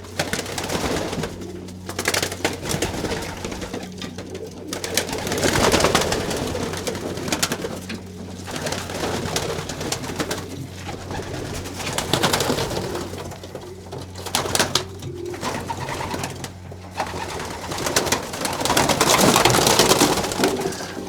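Racing pigeons, including glossy black birds, coo continuously inside a loft, a dense chorus of throaty rolling calls with rustling wings and shuffling, close and fairly loud throughout.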